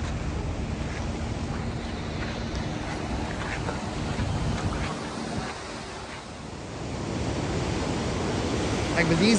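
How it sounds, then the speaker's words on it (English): Ocean surf at a Honolulu beach, a steady wash of breaking waves with wind buffeting the microphone that dips briefly mid-way and then swells louder toward the end. "But these waves are scary."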